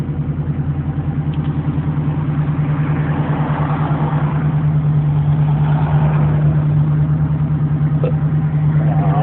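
A Camaro V8 with an automatic choke idles after a cold start, close and loud, with a steady low throbbing pulse throughout and a slight rise as the choke engages.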